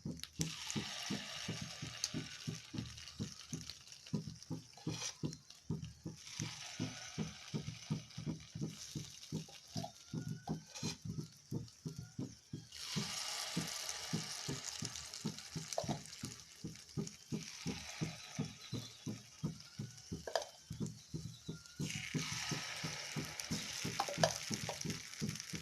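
Jackfruit paniyaram batter cooks in the hollows of a kuzhi paniyaram pan. A steady sizzle swells and fades in repeated waves over a constant rhythmic ticking, with no talk.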